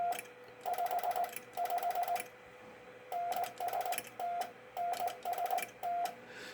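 Vibroplex bug telegraph key being keyed with scratchy contacts, producing bursts of rapid dots and dashes in several spaced groups, with a sounder-like buzzing tone, fairly close and otherwise alone.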